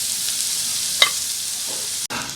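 Chicken noodles with egg and fried chicken stirred in a pan over medium heat, a steady close sizzle broken by a few brief scraping strokes of the spoon, with a short sharp clack near the end.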